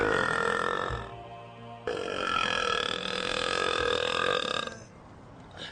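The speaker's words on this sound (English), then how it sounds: "His belches are as loud as an aircraft taking off." A man in an English garden lets out long, deep, extremely loud belches, two drawn-out rumbling burps close to the listener with a brief break between them.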